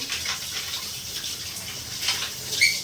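Running tap water splashes in a home kitchen while something is rinsed and washed, a steady, moderately loud hiss of flowing water with small splashes and clinks near the end.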